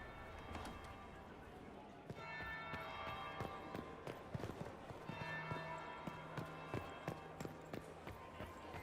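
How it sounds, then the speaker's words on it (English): A bell tolls in Dragon Age: Inquisition, ringing in resonant strokes beneath a continuous ambient game soundscape with horse-like clip-clop and footfall sounds, while voices murmur faintly in the background. "That would be the second bell."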